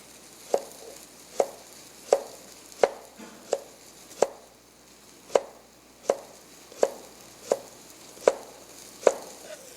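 A knife slicing cucumber on a cutting board, about a dozen crisp, evenly spaced chops in a steady rhythm, close and clear with no talking.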